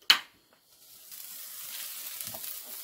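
Steaks flipped on a charcoal grill: a quick sharp clank of the flip, then a steady soft sizzle that settles in and continues quietly to the end.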